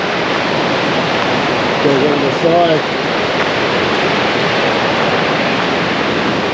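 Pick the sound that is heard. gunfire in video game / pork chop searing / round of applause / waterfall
waterfall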